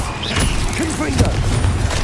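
A Confringo blasting curse explodes in Hogwarts Legacy, a short booming burst amid dense game combat noise, with a voice talking over the action.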